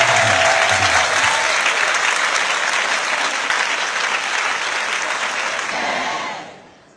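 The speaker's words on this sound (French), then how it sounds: "Acclamez très fort le Seigneur. On acclame très fort Jésus de Nazareth." A church congregation claps loudly and continuously, a dense, even wash of applause that fades out near the end.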